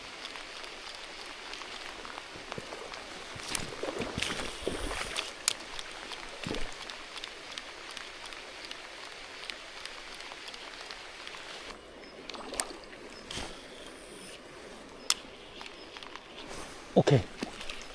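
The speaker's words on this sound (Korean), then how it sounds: "시간이 9시 정도 됐을 때 비가 내리네요" Rain patters steadily and fairly faintly during a trout fishing trip outdoors, with scattered sharper taps and splashes and occasional quiet talk.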